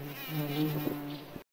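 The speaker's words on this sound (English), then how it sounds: "Rhinoceros beetle." A rhinoceros beetle buzzes in flight with a steady, droning hum that swells slightly and then cuts off, close and alone.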